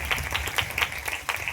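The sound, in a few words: audience applauding loudly at a gospel meeting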